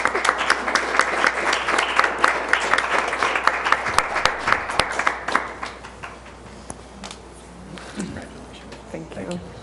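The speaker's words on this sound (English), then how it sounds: "Let's give them all a big round of applause." A school board meeting audience applauds in a dense, loud burst of clapping that gradually thins and fades toward the end, with some voices underneath.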